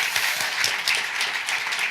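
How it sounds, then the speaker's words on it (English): Audience applause at a comedy festival's national grand final in Melbourne, a dense, steady wash of many hands clapping throughout, fairly close and full. "Give her a round of applause."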